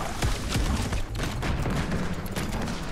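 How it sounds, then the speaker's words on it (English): Shotgun shots from a spider-legged tank in the video game Spider Tanks; loud, close blasts amid dense, continuous battle noise and rumbling, with no talk. "Oh, I only get two shots with the shotgun as well."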